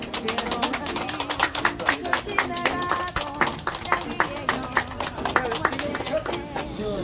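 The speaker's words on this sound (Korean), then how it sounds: "우리 박수 한번." A church congregation clapping during a Sunday morning service, many hands in a dense, fairly rhythmic patter that carries on throughout, with voices mixed in.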